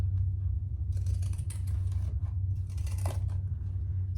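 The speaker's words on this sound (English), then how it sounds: "I'm just going to do some pinking around the corners" Pinking shears snip around the corners of fabric, making a few faint, crisp cuts over a steady low hum.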